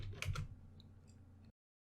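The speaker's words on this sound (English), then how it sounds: "If I type here print answer" Keystrokes tap on a computer keyboard, a short burst of several quick clicks near the start that trails off into quieter taps before stopping.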